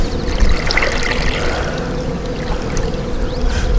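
Sugar-water syrup pours steadily into a beehive feeder, a continuous close liquid rush with a faint trickle and no talking.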